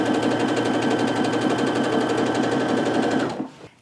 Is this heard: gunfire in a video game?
no